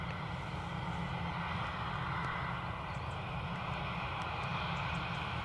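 An Emirates airliner arriving at Dublin Airport, heard as a steady, moderately distant engine roar with a constant broadband rumble and faint whine, holding level throughout without talk.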